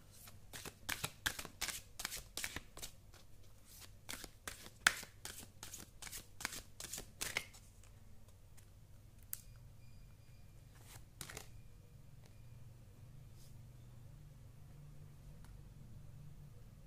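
Tarot cards are riffled and shuffled by hand in a rapid burst of crisp slaps, close and fairly loud, for about seven seconds, then the sound stops and only quiet room noise with a few faint taps remains.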